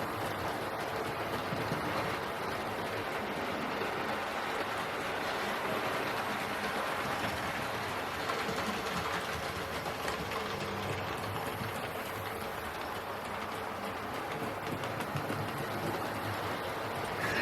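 A Hornby model locomotive circles a model railway track, giving a continuous, even rumble of wheels with faint clicking at the rail joints that stays steady and unbroken throughout.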